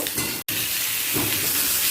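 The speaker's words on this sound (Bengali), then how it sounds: "আলুগুলোকেও পটলের সাথে ভেজে নেব" Potato pieces and pointed gourd fry together in hot oil in a pan for a Bengali katla fish curry, giving a steady broadband sizzle that cuts out for an instant before resuming.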